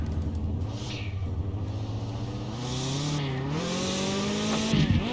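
A car in the driving game Mon Bazou accelerating hard with NOS, its engine note climbing steadily in pitch as it revs up, loud and close with tire noise, ending in a brief wobble.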